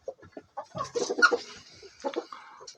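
Laying hens in a backyard coop cluck in short, scattered bursts, fairly close, with several overlapping calls rising and falling and no voices.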